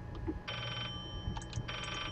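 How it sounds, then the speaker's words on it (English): An old-fashioned telephone bell in the horror game Layers of Fear rings in two clear bursts separated by a short gap, loud and close, with faint background noise between rings. "if I ever hear a phone that sounds like this"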